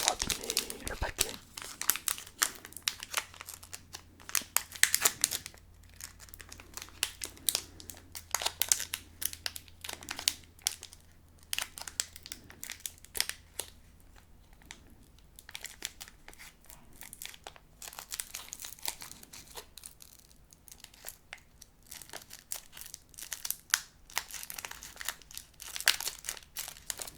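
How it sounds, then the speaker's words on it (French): A Charizard GX Pokémon card packet is opened by hand, giving repeated crinkling and tearing of foil wrapping in irregular close-up bursts, with quiet pauses between handling. "on va essayer de l'ouvrir comme ça correctement, sans trop abîmer le paquet"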